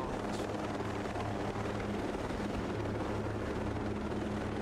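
Helicopter in flight in Ghost Recon Breakpoint, a steady dense rotor and engine roar held at constant loudness throughout, close and continuous with no talk.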